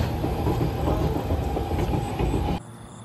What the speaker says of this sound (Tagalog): may dumaan na naman guys na tren